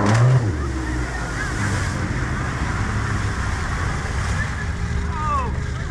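A classic two-wheel-drive rally car revs hard through a sandy dry riverbed during the Safari Classic Rally, its engine a steady loud roar with wind and rumble throughout, faint voices underneath.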